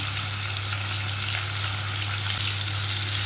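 Pomfret fish sizzles steadily in hot oil, a constant close crackling hiss with no pauses and no voices.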